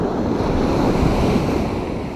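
Sea waves break and wash along a shore while someone fishes for bluefish from the beach, a loud continuous surf roar with wind buffeting the microphone.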